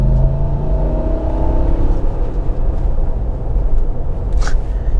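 A 2003 Toyota 4Runner with a 4.7 liter V8 accelerates on the road, its engine tone climbing for the first two seconds before settling into a broadband road rumble, with a brief higher whine near the end.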